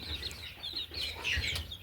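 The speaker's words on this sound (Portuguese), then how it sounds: "Aí tem bastante galinha com pintinho, galinha com franguinho saindo penugem." Farmyard hens with chicks and downy young chickens clucking and cheeping close by, a busy overlapping chatter of short calls with no one talking.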